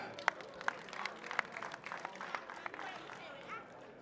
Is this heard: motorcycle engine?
no